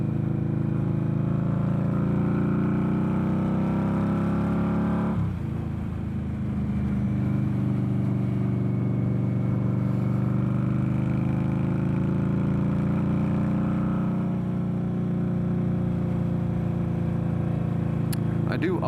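An Indian Scout Bobber motorcycle with a loud aftermarket exhaust drones steadily while cruising at around 60 mph, its engine note shifting with a brief throttle change partway through, with wind noise mixed in.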